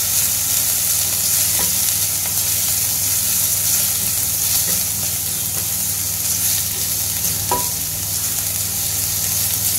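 Chicken sautés lightly in a pan for a restaurant-style club sandwich, a loud continuous sizzle with faint stirring clinks, steady throughout and without talk.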